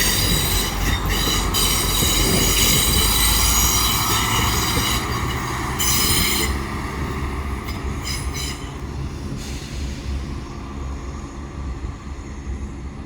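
A diesel train rumbles loudly and steadily as it departs Doncaster station toward Sheffield, its engine drone and wheel noise slowly fading as it pulls away around a curve into the distance.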